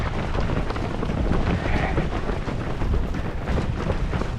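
Wind blowing hard across the microphone during a city marathon run in Pattaya, a steady, loud broadband rush with no voices heard.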